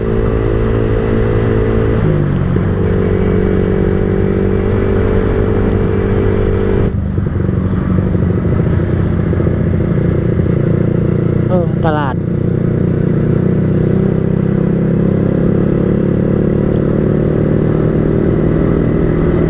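A Yamaha R15 motorcycle cruises along a road with a steady, loud engine drone and wind noise, pitch shifting slightly with gear changes, while someone talks over it throughout.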